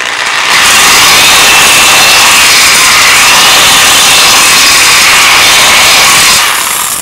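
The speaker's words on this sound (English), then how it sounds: "We're just going to go through with 3/8 bit." A drill with a 3/8 inch bit cuts through a bushing for a Cub bungee cover, a loud, steady high-pitched whine running continuously for several seconds, close by, with no talk.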